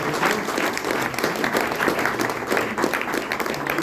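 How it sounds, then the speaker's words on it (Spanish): A crowd applauds at a tribute to a rock band, dense steady clapping that holds at even strength for the whole stretch. "Un aplauso para este recuerdo."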